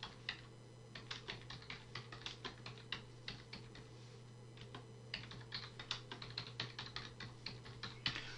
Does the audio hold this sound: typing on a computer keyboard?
yes